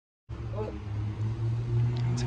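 A clean, show-ready custom car's motor idling close by, a steady low drone holding even throughout, with a faint voice heard briefly.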